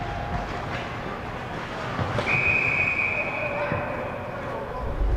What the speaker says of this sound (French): L'arbitre siffle.